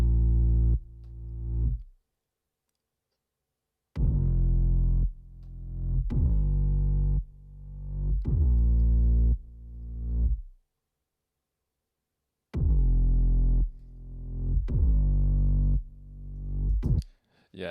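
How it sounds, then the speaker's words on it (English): 808 bass notes in a music production track, a deep, booming synthetic bass heard alone in separate bursts: short repeated hits that form phrases, with stretches of silence between the groups. "I mean, they're 808s, so they just sound like this."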